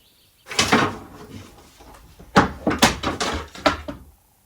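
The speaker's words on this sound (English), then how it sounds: "something fell off the top of Sophie's wardrobe there" Objects tumble off the top of a wardrobe in a house being tidied, landing in a quick cluster of knocks and thuds, then a second burst of several clattering bumps close by with no talking.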